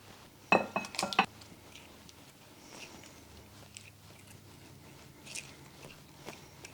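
Cranberries and an apple dropped into a mixing bowl, a quick cluster of clinks and rattles near the start, then quieter soft handling noises and faint taps.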